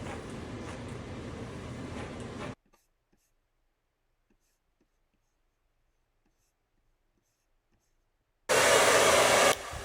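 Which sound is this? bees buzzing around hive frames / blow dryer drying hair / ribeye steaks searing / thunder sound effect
blow dryer drying hair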